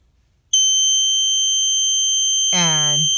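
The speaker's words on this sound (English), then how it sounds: "the phototransistor will allow the horn to sound" A Snap Circuits electronic horn, triggered by a phototransistor, switches on abruptly after a brief silence and holds a loud, steady piercing tone. A second wavering tone layers in near the end.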